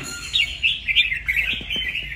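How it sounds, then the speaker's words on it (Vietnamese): A caged songbird offered for sale chirps in a quick, continuous run of bright, high trills, close and clear, with a few faint knocks underneath. "Con chim này thì không phải miêu tả nhiều rồi, anh em cứ xem clip là thấy cái độ chất của nó anh em ạ."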